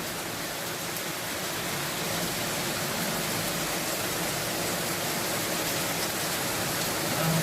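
A steady downpour of heavy rain roars continuously, a thick broadband wash of sound with no breaks.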